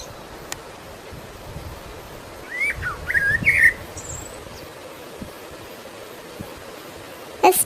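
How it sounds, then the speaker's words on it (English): A blackbird sings a short burst of whistled, warbling phrases in the middle, moderately close, with a faint sharp chirp near the end against quiet outdoor background. "Blackbird, Syama Pachi"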